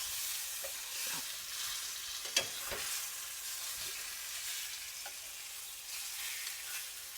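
Chicken for chicken marsala fries in a pan, a soft continuous sizzle with faint crackles and one sharp clink partway through, quiet and close with no voices.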